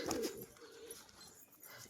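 A female black-bordered tumbler pigeon gives a short, faint coo near the start, followed by quiet room noise.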